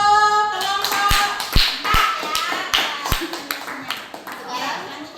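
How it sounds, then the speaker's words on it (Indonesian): Classroom applause for group 4 during a school lesson, with uneven, sparse hand claps from students mixed with chatter and children's voices nearby. "udah tepuk tangan untuk kelompok"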